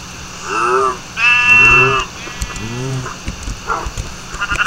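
Sheep in a video game bleat three times in a row, loud and close, each wavering cry lasting under a second, with a quieter clip-clop of hooves following.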